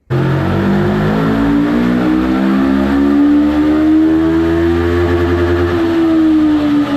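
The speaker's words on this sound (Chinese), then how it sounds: "我还对它进行了马力机测试，车子加了495标号的汽油" A VOGE RR525 sport motorcycle on a dynamometer, fueled with 95-octane petrol, revs hard and loud, its engine note climbing steadily in pitch before easing back down, alone with no voices.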